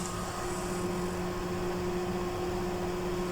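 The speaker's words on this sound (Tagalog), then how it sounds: "Pasensya na sa ingay ng electric fan." Electric fan running close by in a hot room, a steady airy whoosh with a low constant hum, even and unbroken throughout with no voices.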